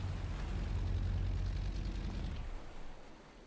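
Steamship engines running in a Carpathia video game, a deep steady low rumble with a broad hiss above it, loud at first and fading noticeably over the last second.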